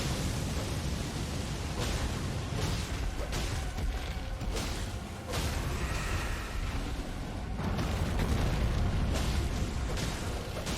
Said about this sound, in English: Dodge the fire. Here comes the fire.